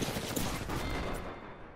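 Gunfire in the video game Apex Legends, a dense rattling burst of rapid shots that fades out toward the end, heard faintly at low level.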